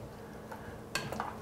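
A yogurt sauce with dried mint is mixed in a bowl, giving faint soft stirring with a couple of sharper scraping clicks toward the end, with no voices.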